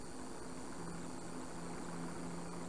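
A helicopter drones steadily from above the French Formula 1 Grand Prix, its rotor chop and engine forming a continuous dense roar with no voices.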